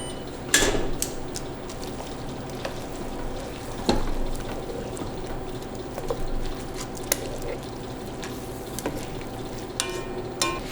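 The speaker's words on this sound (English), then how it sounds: "now I'm just gonna stir for 5 minutes" Linguine with mushrooms stirred in a hot pan over high heat, with a steady close sizzle and bubbling broken by occasional scrapes and taps of the utensil.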